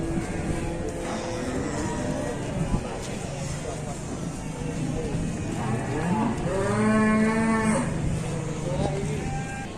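An agitated cow moos loudly in a long, drawn-out call, with voices talking in the background and a steady outdoor rumble.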